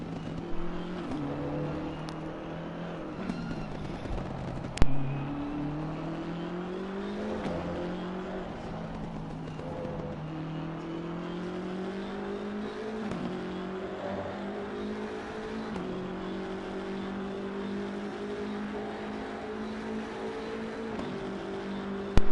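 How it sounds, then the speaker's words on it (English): Several GT3 race cars, including a BMW GT3, roar around the Paul Ricard circuit during a test session, their engines droning loudly and continuously with shifting revs and a brief sharp knock partway through. "Listen to the roar of these engines."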